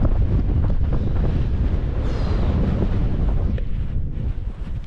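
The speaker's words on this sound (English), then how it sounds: "Pretty gusty." Gusty mountain wind on Slieve Meelbeg in the Mourne Mountains buffets the microphone in a heavy, continuous low rumble that surges and eases, with no voices over it.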